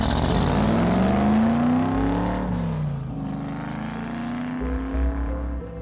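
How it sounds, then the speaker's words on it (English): A car pulls away hard at night, its engine revving and climbing in pitch before easing and rising again. The sound is loud and close, with no voices over it. "hops in one of his cars and aggressively drives off into the night toward Republic City"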